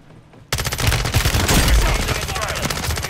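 Rapid automatic gunfire from a weapon in Call of Duty Warzone bursts in after a short quiet lead-in, a loud, dense stream of shots with booming low impacts carrying on steadily to the end.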